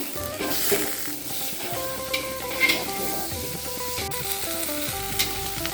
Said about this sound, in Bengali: এখন একটু বাটার সম্বারা দেবো